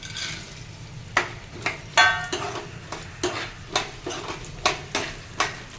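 Almonds dropped into hot ghee in a pan, giving a steady low sizzle with repeated sharp scraping clicks of a spoon stirring against the metal at a fairly even rhythm, close by.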